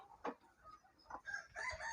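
Gavran country chickens cluck in short, quiet bursts, a few separate calls spaced across a calm farmyard with faint background noise and no talk.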